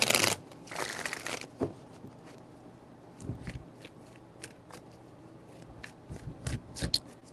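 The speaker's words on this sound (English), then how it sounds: "Three shuffles." Tarot cards being shuffled, a burst of riffling papery friction at the start followed by scattered light taps and card slaps, fairly close and with no one talking.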